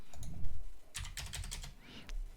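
Computer keyboard keys clack while working in After Effects, a few separate taps followed by a quick cluster of close, crisp presses, with no speech.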